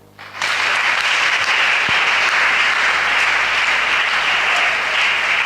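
A church congregation bursts into loud, sustained applause during a Sunday worship service, many hands clapping densely and steadily for several seconds.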